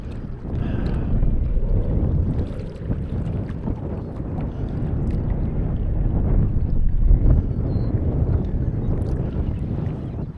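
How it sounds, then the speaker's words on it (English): Wind rolls across a quarry and buffets the microphone in a steady, rumbling roar that swells and eases slightly over the whole stretch. "The wind's just rolling in."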